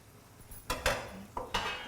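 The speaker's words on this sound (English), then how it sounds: "I'm just going to give it a stir" Chicken curry (karahi) stirred in a non-stick pan, with a few scraping, clinking strokes of a utensil against the metal over a faint sizzle, close and moderately loud.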